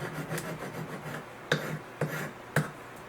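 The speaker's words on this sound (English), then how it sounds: "So I use my coarse file," A coarse file rasps across a small metal collet in short back-and-forth strokes, close and fairly quiet, with three sharper scraping accents near the end.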